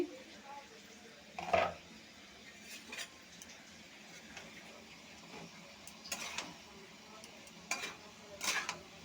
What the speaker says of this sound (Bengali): ঢাকনিটা উঠিয়ে নিচ্ছি